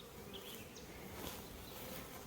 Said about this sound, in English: Lots of activity, just lots of field worker bees in and out carrying pollen.